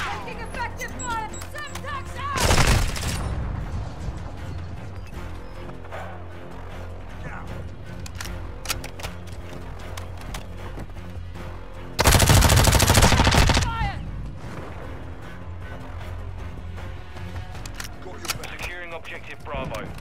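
Gunfire in Call of Duty Modern Warfare 2 multiplayer: scattered shots and two loud bursts of automatic fire, with in-game voice callouts and other game sounds throughout.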